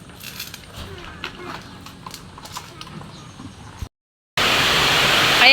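Heavy rain pours down by a river in a sudden dense, loud hiss that fills the last second or so, after a stretch of scattered light taps and a short silence.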